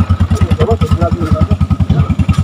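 A motorcycle engine putters past close by on a roadside, its steady rapid low pulsing loud throughout the short stretch, with faint clatter mixed in.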